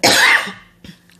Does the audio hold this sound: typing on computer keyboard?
no